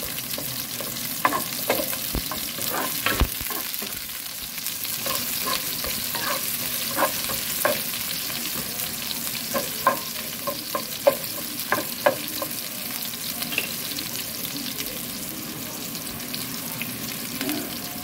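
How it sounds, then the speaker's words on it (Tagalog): Onion, garlic and ginger sauté in a hot pan for an adobo of chicken liver and heart, a continuous sizzle broken by repeated sharp scrapes and taps of a spatula stirring, close and steady, no one talking. "Habang inaantay na pumula yung mga ingredients na sibuyas sa bawang at luya"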